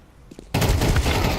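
A Counter-Strike gunshot in a professional IEM Katowice 2025 match: a brief faint tap, then a sudden loud burst of fire that rings on at full strength to the end.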